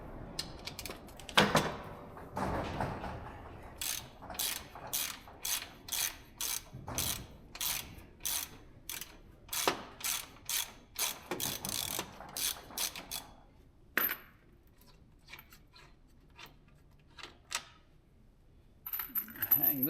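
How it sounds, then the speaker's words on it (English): A ratchet wrench loosens a 13 mm bolt on a snowplow, with bursts of rapid clicking, short pauses and a metallic clink or two, close and fairly quiet with no other sound. "So first thing we gotta do is take this bolt out."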